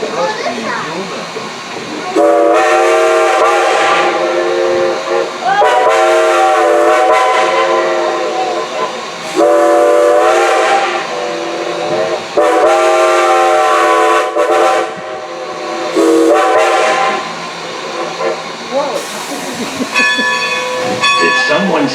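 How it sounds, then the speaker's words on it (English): A Strasburg Railroad steam locomotive sounds its whistle in a series of long, loud, chime-like blasts, each separated by brief pauses, with fainter echoing repeats answering from a distance. "See if you can hear the ghost whistle."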